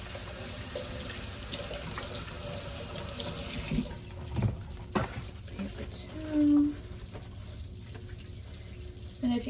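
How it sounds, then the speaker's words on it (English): Tap water runs steadily into a kitchen sink for several seconds while hands are rinsed. The flow then cuts off, leaving a few faint clatters and handling noises nearby. "I'm gonna just rinse off my hands real quick."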